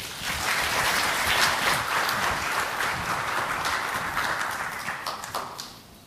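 An audience at an intellectual property conference breaks into full, dense applause for an introduced inventor, holding steady before thinning out and fading near the end.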